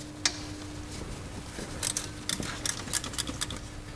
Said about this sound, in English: I'm using a spark plug style socket